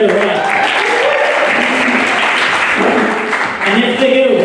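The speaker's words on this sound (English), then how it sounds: "you get to give them a round of applause if they get it right" Wedding guests applauding at a Meerendal reception, a burst of clapping mixed with cheering and chatter that briefly dips before picking up again.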